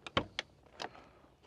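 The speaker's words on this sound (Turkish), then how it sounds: "Kapı gördüğünüz üzere bu şekilde açılıyor. Bagaj kapısı." Tailgate of a Mercedes-AMG G63 opening, a few short close mechanical clunks and latch clicks in quick succession, then a quieter trailing rustle.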